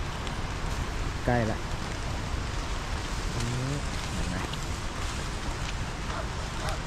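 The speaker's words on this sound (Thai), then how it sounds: "ได้ยินเสียงน้ำตกแล้วนะครับ" Haew Narok waterfall in Khao Yai, heard from a rainy forest trail, gives a faint, distant, steady rushing wash, while someone speaks briefly over it.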